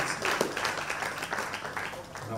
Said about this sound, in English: a round of applause for them for coming out to speak their minds